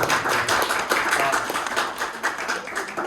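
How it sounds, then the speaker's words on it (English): Dense applause from a church or lecture audience fills the room, many hands clapping steadily and fairly loud for a few seconds. "let's give Andre a round of applause"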